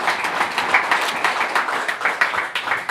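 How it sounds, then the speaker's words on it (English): Crowd applause for boxer Charlie Nash at a press conference in Derry, a dense burst of many hands clapping in a room, steady and fairly loud with no one speaking over it. "Give Charlie a big round of applause"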